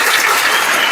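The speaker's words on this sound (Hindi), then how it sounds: "चलिए एक और जोरदार ताली लगाइए दोनों आदमी के लिए।" Loud, dense applause from a school classroom audience for two students competing in a quiz contest, a steady wash of many hands clapping close by with no voices.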